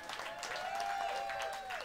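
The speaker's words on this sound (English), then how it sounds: "Thank you for clapping for that." An audience at a blues concert at The Funky Biscuit club in Boca Raton, Florida claps for a few seconds, with scattered applause at moderate distance and no talk over it.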